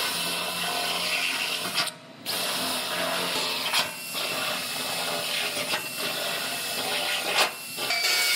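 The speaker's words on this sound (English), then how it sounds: "I'm gonna go ahead and make all my holes for the welds." Power drill boring plug-weld holes in a new steel floor pan on a Toyota car, a steady high whine with a few short pauses between holes, running alone without talk.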